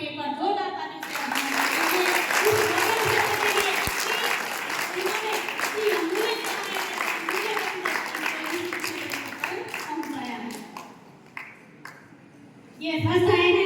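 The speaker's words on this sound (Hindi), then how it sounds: "तो डॉक्टर साहब के लिए एक बार जोरदार ताली से" An audience at a district-level student softball prize ceremony claps loudly and steadily for a doctor, sustained applause that fades out near the end before a voice speaks over a PA.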